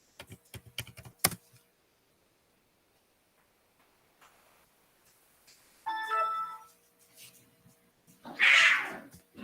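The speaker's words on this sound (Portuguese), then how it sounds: "Olha o gatinho." A cat meows a few times in a quiet room, with a short rising call and later a louder, longer meow, alongside scattered clicks of a computer keyboard being typed on early on.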